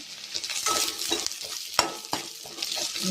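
Food sizzles in a frying pan for a Tulu-style peas and potato curry while a utensil stirs and scrapes it, with short clinks over a steady hiss and no voices.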